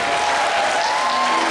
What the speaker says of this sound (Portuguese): Pode aplaudir forte, porque isso é verdade.